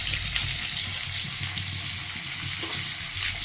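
Onions frying in hot oil for a home-cooked curry, giving a steady, close, hissing sizzle that runs evenly throughout with no talk over it.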